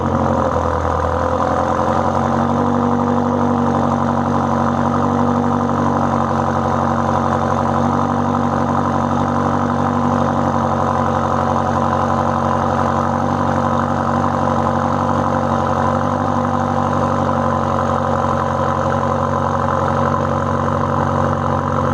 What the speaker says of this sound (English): now they stay open, and the car has a really aggressive sound, no matter if it's in sport or comfort.